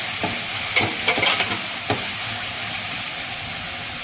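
Tomato masala fries in a pan for a raw-banana kofta curry, a steady close hiss and sizzle broken by a few sharp clinks and scrapes of a spoon or lid early on, with no talking.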